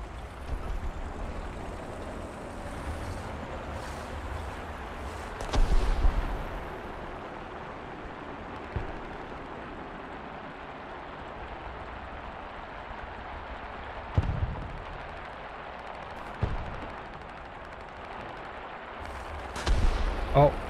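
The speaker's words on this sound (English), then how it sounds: "Drop some artillery there, make sure nobody's there." Artillery in a War Thunder tank battle, with several heavy booms spaced seconds apart over a low, steady engine rumble, some near and some more distant.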